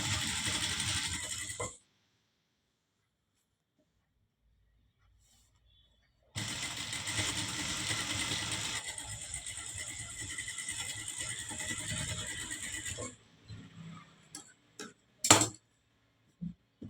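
A sewing machine stitches a churidar back neck, running in two bursts of steady mechanical whirring with a clear pause between them, then a few short clicks and thumps near the end.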